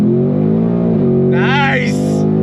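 A 2025 Ford Mustang GT muscle car in Intense Lime Yellow accelerating on throttle, with a steady close engine drone rising in pitch, heard from inside the car under a voice.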